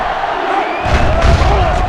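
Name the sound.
crowd cheering in a stadium, from video game NCAA Football 07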